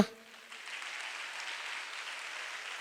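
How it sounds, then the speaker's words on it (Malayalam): An audience at an Onam television show event claps in a steady, even burst of applause that carries on to the end, after a brief sound at the start. "ഒരു കൈയടി കൊടുക്ക."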